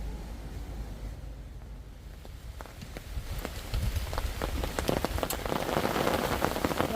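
Steady rain falling on a riverbank during feeder fishing for bream, a dense patter of drops that grows louder and heavier over the last few seconds, with no talk.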